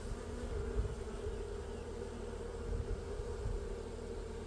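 Honey bees buzz steadily around a mini mating nuc during queen rearing, a dense, continuous hum close by with small swells in loudness and no voices.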